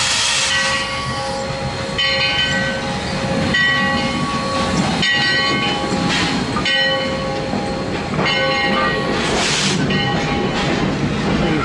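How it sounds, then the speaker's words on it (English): A steam train, one of the few still running in the United States, passes close by with a steady rumble and hiss. Its long whistle tones sound out in several blasts, and the roar of the wheels rolls on beneath them. "One of the few trains, steam trains left."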